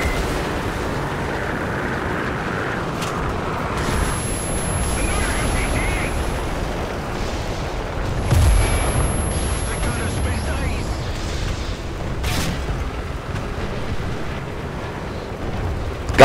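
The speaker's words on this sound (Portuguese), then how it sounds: "Se manda, que vai vir bombinha." Artillery shells and bombs burst in a War Thunder tank battle, a steady heavy rumble of distant and nearby blasts with a louder impact around the middle, while players talk over the noise.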